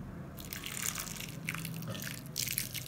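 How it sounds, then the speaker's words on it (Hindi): Water is poured onto crushed bread as a continuous, splashy trickle with small drip-like accents, moderately close and steady throughout. "अब इसमें हम पानी डालेंगे"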